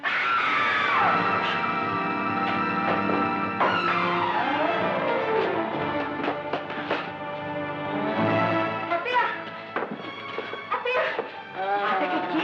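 A car skids with long wailing tire squeals that sweep and bend over several seconds, loud and close, ending in a crash, with dramatic movie sound effects layered in.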